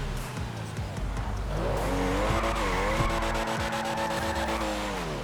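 A Legendary Motorsport sports car in GTA 5 Online revs and pulls away loudly, its engine pitch sweeping up and down while tires squeal and skid in bursts.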